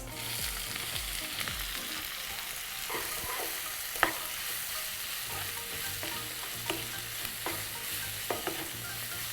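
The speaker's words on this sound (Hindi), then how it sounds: "प्याज को भूनना है" Onions and fennel seeds frying in hot oil on a glass-top gas stove, a steady close sizzle with occasional sharp clicks and stirring scrapes, no voices.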